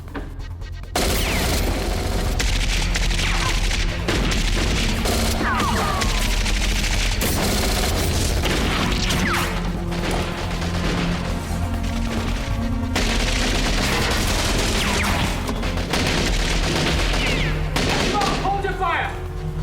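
Gunfire in the 1999 cyber thriller film NetForce: dense, continuous volleys of shots and bursts lasting the whole stretch, loud and busy, mixed with other action sounds and occasional voices.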